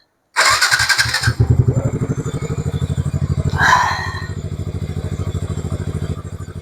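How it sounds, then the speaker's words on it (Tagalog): A Yamaha Sniper 155 motorcycle with a stock engine cranks over for about a second, fires up loudly and settles into a steady, close, throbbing idle with a brief rev partway through. "So, pandarin natin ng motor."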